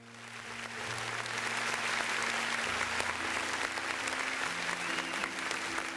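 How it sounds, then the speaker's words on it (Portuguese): Church congregation breaks into applause during a service, clapping swelling in within the first second and holding steady and full, with a sustained organ or keyboard tone underneath. "Quer dar um aplauso ao Senhor?"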